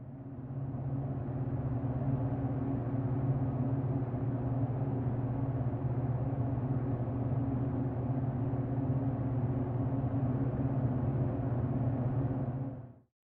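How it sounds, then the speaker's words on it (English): Steady room-tone hum recorded in a gas station toilet, a continuous low droning rumble with layered tonal bands, even and unbroken from start to finish before cutting off. "The next sound comes from a gas station toilet of all places"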